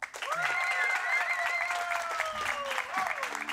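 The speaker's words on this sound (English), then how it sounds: "The hometown crowd goes wild." A hometown crowd at a disc golf tournament bursts into sustained applause and cheering, loud and continuous, with a voice rising over the clapping.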